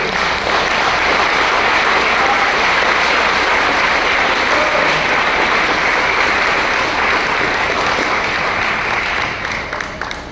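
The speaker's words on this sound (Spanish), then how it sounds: "¿Por qué no le damos un aplauso al Señor entonces?" A church congregation applauds in praise, a dense, steady wash of clapping that fills the room for about ten seconds before beginning to thin out at the end.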